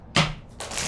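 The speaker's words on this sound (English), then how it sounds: "Let's do 2 more shuffles here." Tarot cards being shuffled in two quick bursts of soft riffling, close and fairly quiet, with no talk over them.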